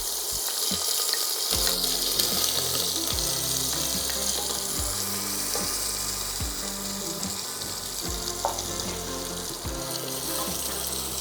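Sliced onions fry in a pan with fenugreek and cardamom for a Kerala-style mutton curry, giving a steady close sizzle with intermittent stirring scrapes throughout.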